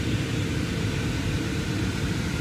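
Steady, even cabin roar inside a passenger plane in flight from Edinburgh to London Stansted, a broad low rumble with no talk.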